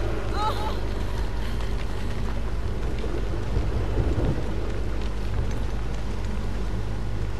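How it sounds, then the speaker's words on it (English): Heavy rain and rolling thunder from a close lightning strike in the video game Outlast 2, a dense, loud, continuous roar of rain with a deep rumble swelling midway, no clear pauses. "Have you ever experienced close lightning?"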